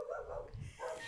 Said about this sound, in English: Bella, what are you barking at?